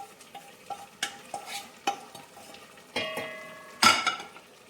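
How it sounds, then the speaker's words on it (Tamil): Sautéed carrot stirred into a pot of cooking carrot payasam, a series of close spoon scrapes and metal clinks against the pot, with a louder clatter near the end and no voices. "இப்போ அதில் வந்து கேரட் வதக்குனதையும் போடுறோம்."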